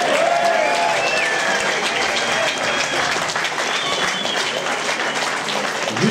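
Audience applause at a blues concert, dense sustained clapping from a large crowd, loud and steady throughout with faint cheers.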